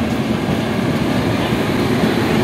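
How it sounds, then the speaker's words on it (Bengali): A moving Sealdah–Jammu Humsafar Express 22317 passenger train heading from Dum Dum Junction toward the Dankuni line gives a loud, steady, close rumble that holds without a break for the whole stretch. "ট্রেন এখন দমদম জংশন থেকে আমাদের ডানকুনি লাইনের দিকে চলে যাচ্ছে।"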